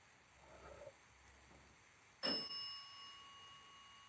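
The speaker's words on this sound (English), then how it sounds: "I heard you move and then you rang the bell." A single sharp bell ding rings out from a ghost-hunting device during a paranormal investigation at Malvern Manor, a bright tone with a lingering ring in an otherwise quiet room, after faint shuffling sounds.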